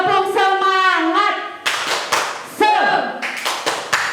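At a Sunday school service, children and leaders perform a rhythmic spirit clap: a few sharp, separated clap and tap bursts interspersed with lively chanting voices.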